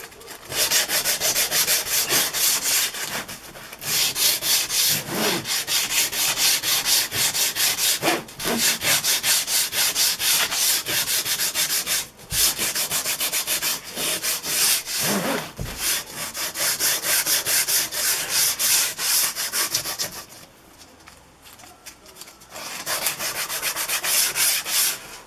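A wooden mold sanded by hand with sandpaper, a loud, close, continuous scratchy rubbing in long strokes with brief pauses between passes, fading quieter near the end.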